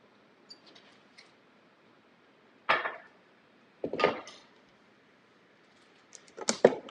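Suction-cup base of a stand mixer popping loose from a kitchen counter: three separate short, sharp pops or thumps a second or more apart, fairly close, with no talking.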